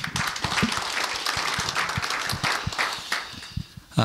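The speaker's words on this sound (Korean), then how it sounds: "박수로 하겠습니다." An audience at a seminary book concert applauds with a busy, crackling mass of claps, some individual sharp claps near, continuing steadily before tapering off.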